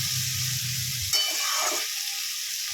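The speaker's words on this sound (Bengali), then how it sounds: "এবার ভালো করে নেড়ে ভেজে নেবো" Boiled cauliflower and potato stirred and fried in a pan for a vegetable masoor dal, a steady broadband sizzle with a low hum that stops, then a few close scraping stirs over the continuing crackle.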